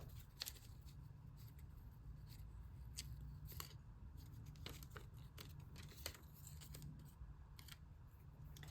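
Scissors snip through paper images for a handmade collage, a close run of quick, sharp cuts and crisp rustles that repeat irregularly over a low steady hum, with no voices.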